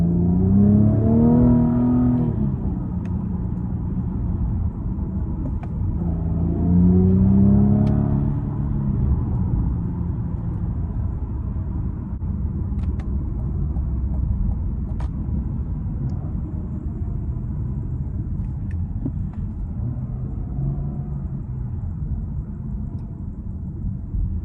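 Inside the cabin of a 2020 Cadillac CT5 with a twin-turbo engine, a deep engine rumble builds and swells during acceleration, with rising tones early on and then a steady drone.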